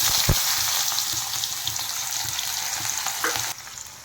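Onion paste for a gravy sizzles and spits steadily in a hot pan, a continuous close frying hiss with a few scraping stirs, dropping slightly quieter near the end.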